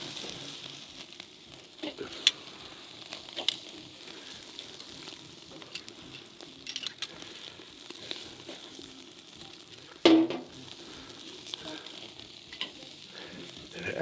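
Lamb chops sizzle on a grill alongside chicken and pork souvlaki, a steady soft frying crackle with scattered pops and one louder clank partway through, no talking.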